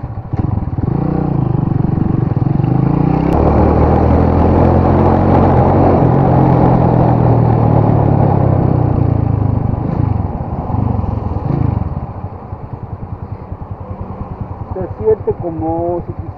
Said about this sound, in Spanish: la moto al principio se jaloneaba o tironeaba, como que quería echar explosiones